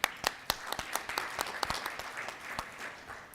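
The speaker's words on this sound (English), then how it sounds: "Can you give him a round of applause" Scattered, sparse clapping at an investment managers forum, with distinct individual hand claps ringing out fairly quietly in an irregular rhythm from a modest audience.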